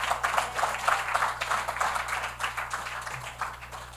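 A press-conference audience applauds the head table, the steady clapping of many hands moderately loud and continuous over a low hum, heard from some distance.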